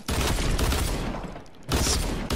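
Dense bursts of rapid gunfire from the video game Fortnite, loud and close, with one sustained volley, a short lull, then another burst.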